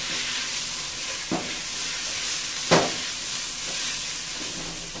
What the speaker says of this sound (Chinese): 跟住又炒翻勻佢